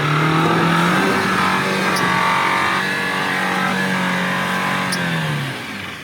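A Jeep Wrangler Rubicon's engine revs loudly and steadily off-road, the pitch rising and easing in sustained surges, close and continuous, before dropping off near the end.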